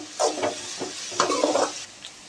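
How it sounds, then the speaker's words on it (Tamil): Large onions sautéing in a pan for beetroot rice give a brief burst of stirring, with a few quick spatula scrapes over a low sizzle, close and moderately loud. "பெரிய வெங்காயம் வந்துட்டு ஒரு ரெண்டு நிமிஷம் நல்லா வதங்கட்டும்"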